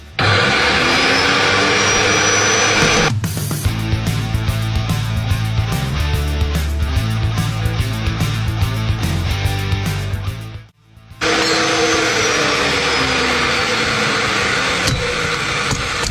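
A Virax bench pipe threading machine runs loudly on black steel pipe, a steady motor drone with rhythmic mechanical chatter that cuts out briefly near the end and then starts up again.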